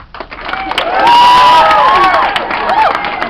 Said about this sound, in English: a big round of applause to the lovely people who are sitting on the floor and standing up